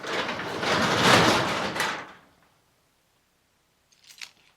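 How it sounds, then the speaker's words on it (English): A garage door rolls shut in a loud, close rattling rush that lasts about two seconds and ends abruptly, followed by silence and a faint brief knock. "gotta close that garage door."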